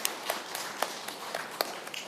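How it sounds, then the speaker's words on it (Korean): A church congregation claps at a Sunday service, a scattered patter of hand claps with sharper individual slaps, moderately close and without talk over it. "박수 한번 해주시기 바랍니다"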